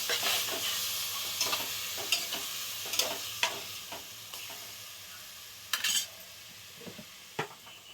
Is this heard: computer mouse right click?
no